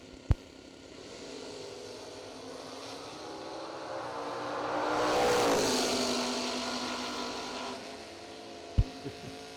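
Drag racing cars, a Chevy II and a Camaro at a million-dollar drag race, roar past as a broad engine drone that swells to a peak midway and fades, with sharp pops at the start and end and no talk.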